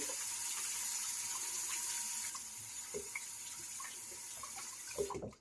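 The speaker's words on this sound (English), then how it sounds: "let me wash my hands off real quick" Tap water runs steadily into a bathroom sink while hands are rinsed under it, a close, even hiss with small splashes that ends abruptly as the faucet shuts off.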